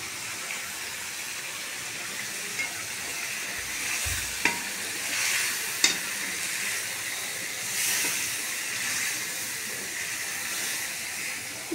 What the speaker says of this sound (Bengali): ভাজছি, ভালো করে ভাজতে হবে